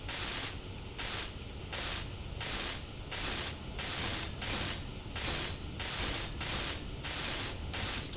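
Welding in the game Space Engineers: a steady hiss that pulses on and off in regular bursts, about a dozen evenly spaced surges of crackling noise.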